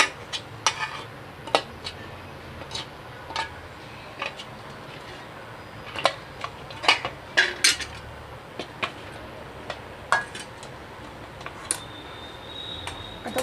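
Ground chana dal puran filling pressed through a metal sieve by hand, producing irregular clinks and scraping taps of the sieve and utensil against a bowl, some sharp and close, between quieter gaps.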